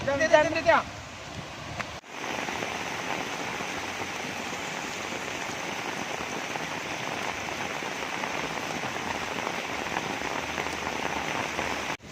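Steady rain pours down outside a hotel, a dense hiss of drops hitting surfaces, continuous after a brief muffled moment at the start.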